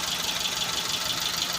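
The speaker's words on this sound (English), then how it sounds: "So let's start the vehicle." A Nissan B15 car engine idling evenly after repair of an ignition primary signal fault, a steady, smooth mid-pitched running hum with a faint regular pulse and no voices.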